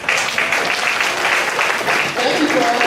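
Audience applause for the standing staff at a middle school honors night banquet, a steady, dense wash of many hands clapping throughout, with some crowd voices mixed in.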